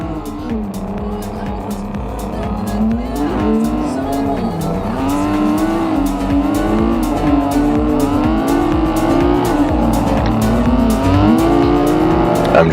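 Race cars on a track in a street racing video game, engines droning and revving continuously with rising and falling pitch, tires squealing and cars passing close, while a voice talks over the loud, steady roar.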